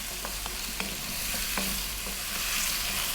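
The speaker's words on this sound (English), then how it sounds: "So just going to give them another 3 minutes, stirring fairly often." Potatoes and carrots for a vegan vegetable curry frying in a pan, a dense continuous sizzle with light stirring scrapes and taps throughout, close up and without voices.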